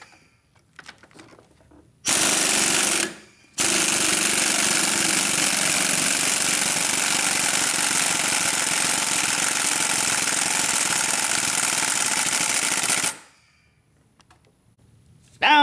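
An impact tool hammers out engine mount bolts on a 2002 VW Golf GTI, a loud continuous rattling burst of about a second, a short pause, then a long steady run of nearly ten seconds before stopping.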